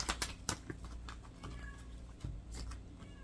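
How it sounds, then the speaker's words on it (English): A mother cat calls for her kitten indoors behind a closed door, giving several short meows in a loose series at moderate distance, with soft patter and thumps in between. "my cat is calling for her kitten"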